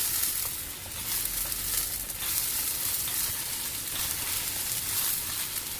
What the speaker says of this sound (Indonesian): terus kita tumis sampai sedikit kering, bumbunya meresap